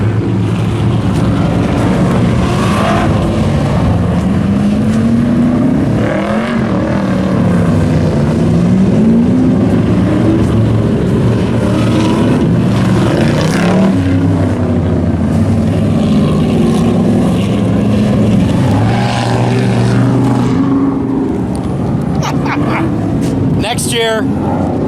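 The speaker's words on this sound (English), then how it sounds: "like 10 cars running the autocross track at the same time" Around ten cars at a hot rod autocross event run the track at once, their engines revving and droning with rising and falling pitch throughout, while people talk nearby.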